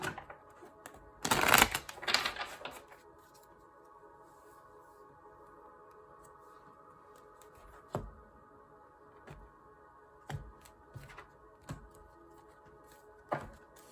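Tarot cards are shuffled in a brief riffling burst, followed by quiet, scattered taps and soft card flicks.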